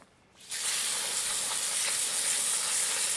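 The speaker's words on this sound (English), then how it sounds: "you can now rinse them off with the hose" A garden hose bursts into a strong, steady spray of water rinsing live aquarium rocks, a close, loud hiss that starts abruptly after a brief quiet moment and holds evenly.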